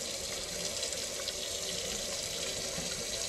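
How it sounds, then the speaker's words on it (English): Hot water runs steadily from a tap into a sink, a soft, even hiss and patter that stays constant and fairly quiet, with no voices over it. "I got the hot water running."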